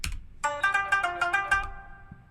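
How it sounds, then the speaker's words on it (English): A bright, twangy plucked tumbi, a single-string instrument, repeats a quick run of about six notes, sharp and metallic, after a short low thump at the start. "this instrument that's playing on this is called a tumbi"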